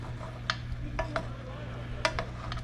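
Utensil scraping and tapping in a pan while pheasant back and mushrooms are stirred, with a few sharp clinks over a steady low background.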